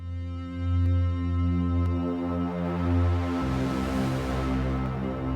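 A sustained synth pad holds soft harmonic chords in a homemade track built from baby toy sounds, steady and moderately quiet, with a chord change partway through and no voices.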